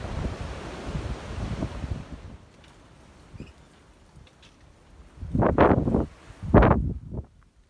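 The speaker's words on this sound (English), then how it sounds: "Cold and windy day." Blustery wind on a cold day among open wildflower fields on the Pacific Crest Trail buffets the microphone in rough, rolling gusts, easing off briefly before two strong bursts roar up near the end.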